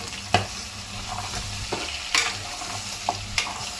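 Mutton curry with masala being stirred in a pan, giving scraping spoon strokes at intervals over a steady low sizzle, close and alone without talk.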